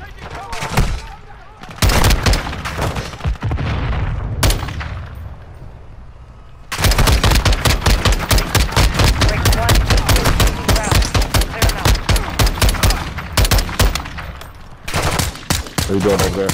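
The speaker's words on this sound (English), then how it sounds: "that's some cover fire for you" Rapid bursts of gunfire from a video game firefight, loud and dense with sustained automatic volleys, brief pauses between them, and a voice talking intermittently over the shooting.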